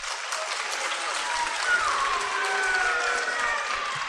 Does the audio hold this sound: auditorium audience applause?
yes